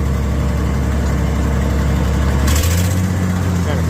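A heavy Gleaner combine harvester engine with a faulty exhaust manifold rumbles steadily at close range, its low drone shifting pitch partway through as the load changes.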